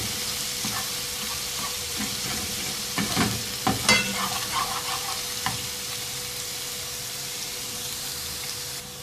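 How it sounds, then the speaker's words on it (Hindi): Chopped garlic and ginger frying in hot oil in a karahi pan for a dhaba-style potato curry: a steady sizzle with a few louder stirring scrapes and spatters around the middle, no voices. "दो 3 मिनट तेल में फ्राई करेंगे इस लहसुन अदरक को।"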